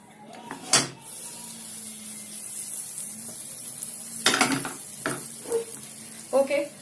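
Butter sizzles in a hot pan with a steady, hissing fizz, broken by several sharp clinks and scrapes of utensils against the pan.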